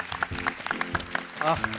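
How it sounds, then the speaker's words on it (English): Audience applause breaks out at the close of a climate change solutions panel discussion, a steady patter of clapping that carries on under a voice talking over it. "let's keep that round of applause going"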